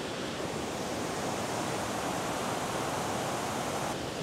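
Steady, broadband rushing of a river current flowing past large rocks at Rocky Island in the Dooars, close and continuous without a break, with no voices over it.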